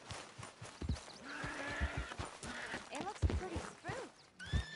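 A spooked horse in the game Red Dead Redemption 2 clip-clops and whinnies with nervous, uneven hoofbeats and squeals, while someone speaks briefly over it.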